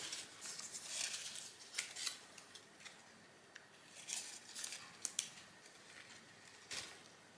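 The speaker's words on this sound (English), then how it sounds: "I'm not sure if my scissors is strong enough to do this cut." Sharp snipping clicks of scissors cutting through a woody avocado bonsai branch, several uneven snips in a quiet room.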